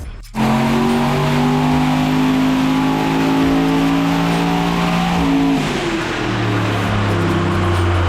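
A tuned car engine revs hard on a dyno, holding a loud, steady high-rpm drone, then its pitch shifts and drops as the run winds down.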